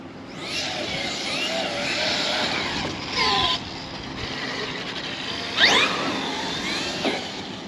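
A Traxxas X-Maxx RC truck's electric motor whirs steadily at a crowded outdoor pull event, with a few quick rising whines as the truck speeds up and faint crowd noise beneath.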